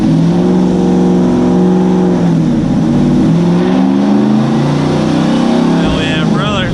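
A supercharged Ford GT500 retired cop car running about 20 psi of boost through a smaller pulley and small throttle body howls through a dyno pull, its loud engine note climbing steadily in pitch with a whining blower edge near the end.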